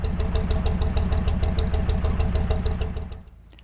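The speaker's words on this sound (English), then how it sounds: "the problem was with the sort of idle speed of the engine" A narrowboat's diesel engine idles with a steady, close, loud mechanical chug and regular knocking beat, its idle speed out of adjustment, before dropping away abruptly near the end.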